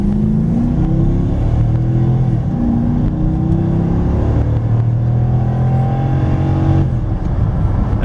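AWD 2014 Dodge Charger Pursuit with a 5.7L Hemi V8, engine revving loud and close with a deep continuous rumble, rising and falling in several swells.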